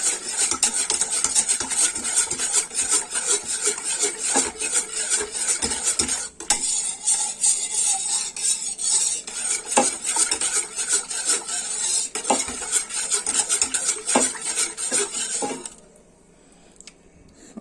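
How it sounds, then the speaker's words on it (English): A standard hand whisk beats lumps out of a cheesy pasta sauce in a pot, a steady, close scraping and clinking that runs without pause for about fifteen seconds before stopping abruptly. "Just a standard hand whisk, just to get all those lumps out."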